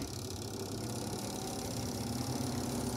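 The motor of a washing machine with a faulty spin dryer hums and vibrates steadily at close range, a low, even drone with no talking.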